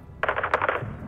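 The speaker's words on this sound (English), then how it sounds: "We're taking fire from the south by the school." Rapid automatic gunfire from the video game Call of Duty: Modern Warfare II, a dense burst of loud overlapping shots lasting about half a second, then fading into a low rumble.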